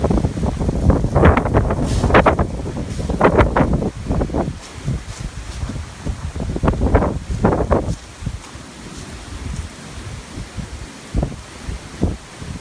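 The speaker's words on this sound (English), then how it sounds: "God, it's so windy out here." Strong outdoor wind roars in loud, uneven gusts that buffet the microphone, swelling and easing over several seconds against a rushing background, with no voices.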